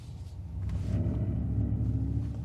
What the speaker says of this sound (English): the roaring pulse here at night